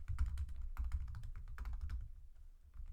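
Quick bursts of typing on a computer keyboard, close and fairly quiet, tapering off into stillness near the end.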